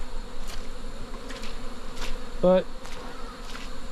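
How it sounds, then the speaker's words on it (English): Honey bees swarm around hives recently relocated from Manila to Baybay City, Philippines, a dense continuous buzzing near and far, with a brief spoken word partway through. "you'll see that the bees they seem disoriented, and they are."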